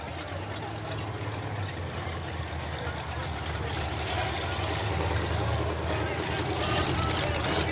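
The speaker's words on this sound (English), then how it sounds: "You can hear that motor just lobing up pretty good." A race car engine idles with a lopey, uneven beat at a racing event, its low rumble running steadily through the clip and growing a little louder partway through.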